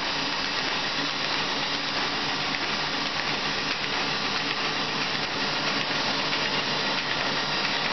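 A Baum 2020 paper folder runs steadily as it folds 8.5x11 sheets into quarters, a continuous, even mechanical drone with a faint rattling texture, close and loud, with no voices.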